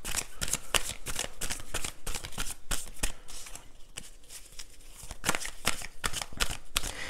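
Tarot cards are shuffled by hand up close in a quick, rapid run of papery flicks and riffles, with a short quieter pause partway through, and no voices.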